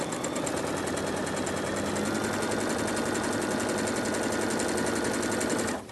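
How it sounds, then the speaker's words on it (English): A sewing machine stitches forward along a flat felled seam in fabric, a steady, loud, continuous whir at close range that runs without pause and stops abruptly at the end. "We sew forward a few stitches, of course."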